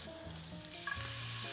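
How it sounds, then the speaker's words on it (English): Salted pork sizzles and crackles steadily in a hot pan, close and continuous with faint clinks of stirring. "I like hearing that sizzle sound."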